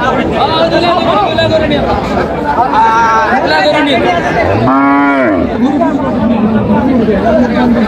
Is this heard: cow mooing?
yes